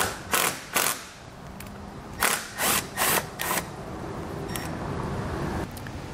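A socket tool backs out 7mm bolts on a 2019 GMC Acadia, heard as several short, crisp bursts of mechanical clatter close by, separated by pauses over a steady background hum.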